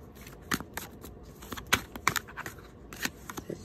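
Tarot cards riffle and slap in a quick, close shuffle, with a few crisp flicks as cards slip loose from the deck.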